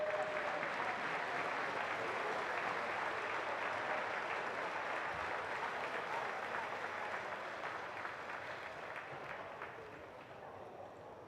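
A hall full of people at the Coal Bowl 2024 closing awards ceremony gives steady applause for student athletes, a dense rattle of many hands that gradually tapers off toward the end.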